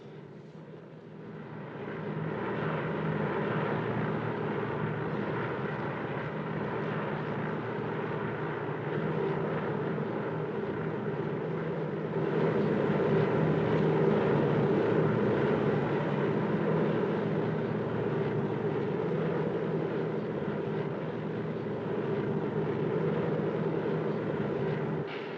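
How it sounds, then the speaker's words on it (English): A steady, droning airplane engine hums through a flight scene from a film, loud and continuous for the whole stretch and swelling slightly partway through, with no talk over it. "I'm somebody flying in a strange plane to a strange place with a lunatic pilot"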